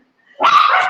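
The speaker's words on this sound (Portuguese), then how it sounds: "Ai, meus cachorrinhos aqui fazendo barulho." A small dog barks once, loud and close, with a yappy, drawn-out bark that fills the end of the brief clip.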